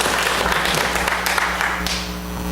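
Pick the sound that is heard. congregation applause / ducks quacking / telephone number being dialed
congregation applause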